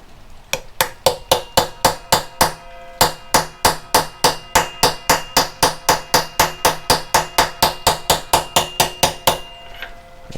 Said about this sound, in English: And a hammer. And we're just going to very gently tap it in.